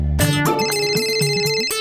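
A telephone rings at home with a steady electronic tone carrying sustained harmonics, repeating in short bursts over about two seconds, fairly loud and close with no talk over it.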